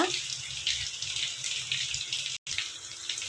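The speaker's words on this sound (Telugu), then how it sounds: "ఇప్పుడు ఇందులో ఉన్న వాటర్ మొత్తం వంచేసుకుందాం" Water drained from a pot of boiled potatoes pours out in a continuous splashing stream like a running tap, close and fairly loud, with a brief break near the end.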